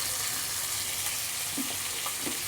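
Vegetables fry in fish oil in a pan with a steady, moderately faint sizzle and a few soft stirring clicks, with no talking.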